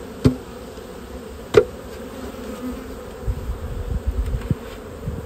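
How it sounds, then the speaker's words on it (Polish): Honeybees hum steadily in a low drone at a hive being transferred, with two sharp knocks near the start and soft rustling handling sounds later on. "ostrożnie będę chciał te pszczoły tutaj strząsnąć"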